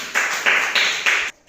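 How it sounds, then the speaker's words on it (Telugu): Children in a classroom clap in four even bursts of rhythmic applause, close and fairly loud, stopping abruptly at the end. "క్లాప్స్ కొట్టండి."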